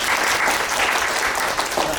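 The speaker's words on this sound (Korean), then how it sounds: "박수 한번 쳐주시죠." A university lecture-hall class applauds a student presentation: dense, continuous clapping from many hands, steady and fairly loud throughout the short burst, with no voices over it.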